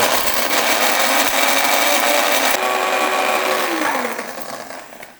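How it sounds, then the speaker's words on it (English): A high-speed blender whirs loudly and steadily, then its motor winds down and fades out at the end. "High-speed blender. It goes in a flash."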